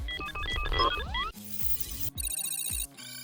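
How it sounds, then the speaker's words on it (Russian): A sequence of short electronic chimes and synthetic tones, bright melodic blips and swooping beeps in quick succession, with no voices. "звуки для пользовательских интерфейсов"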